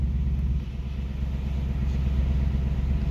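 A 2018 Ford Mustang GT engine idles with its active exhaust set to quiet mode, a steady low rumble and muted exhaust, even and unbroken throughout.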